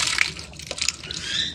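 Water is poured into a dish for lovebirds to drink, a short trickling and splashing burst indoors, fairly faint.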